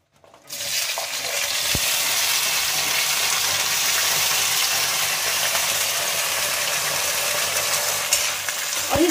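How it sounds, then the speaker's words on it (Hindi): Bakhla beans hit hot mustard oil in a wok and break into a loud, steady sizzle, a broad frying hiss that rises within the first half second and holds strongly to the end, with faint stirring clicks. "तेल गरम हो गया फली डाल देते फ्राई करने के लिए"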